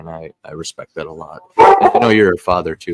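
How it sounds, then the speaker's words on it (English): A dog barks in a few loud, brief bursts in the middle of a podcast conversation, nearly buried under close, steady talking voices. "Sorry about the dog."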